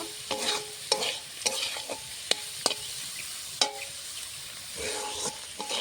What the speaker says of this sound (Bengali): পুঁই শাকের বিচি ভাজা হওয়ার মধ্যেই পুঁই শাকের ফল আর কিছুক্ষণ সময় ভেজে নেব